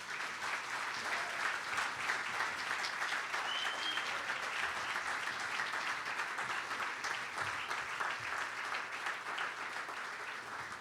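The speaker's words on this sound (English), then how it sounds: "Let's give her a round of applause." A gala audience gives sustained, dense applause that holds at a steady level for about ten seconds, heard from within the crowd.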